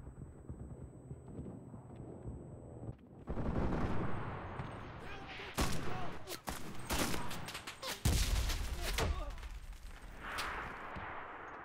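Gunfire in the Normandy campaign of the video game Enlisted, with a dense fusillade of rifle and machine-gun shots and heavy blasts, loud and overlapping, over a low rumbling battlefield background.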